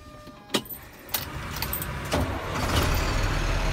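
Keys jangle and click before a 2009 International Durastar mechanics service truck with crane, compressor and welder cranks over, its diesel engine then settling into a steady loud idle close by.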